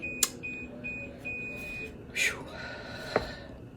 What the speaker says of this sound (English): If you hear my beeper going,